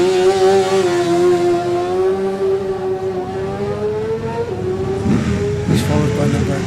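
A 600 Yamaha racing motorcycle in a classic motorcycle road race, heard as a loud, high engine whine that holds steady, then drops in pitch as it goes past. A commentator talks over it throughout.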